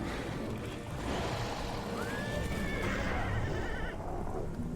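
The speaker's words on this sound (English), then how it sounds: "That horse is fucking cool." Horse whinnying in the Castlevania game Lords of Shadow, a rising neigh over dense, continuous game noise and music, moderately loud and lasting a couple of seconds.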